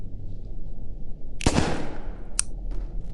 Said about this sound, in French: Je sais pas viser avec mon flingue